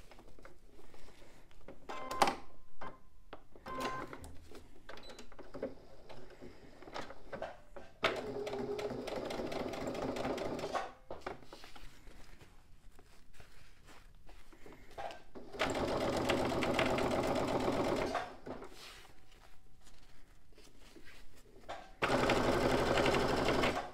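A sewing machine stitches the lining seam of a fabric pencil case in several bursts of rapid, even whirring, broken by pauses and small handling clicks, close and moderately loud with no speech.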